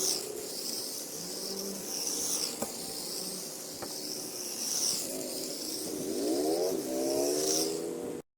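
A radio-controlled Formula 1 race car on a test run gives off a thin, insect-like electric whine that holds steady, then sweeps up and down in pitch as it speeds up, ending abruptly.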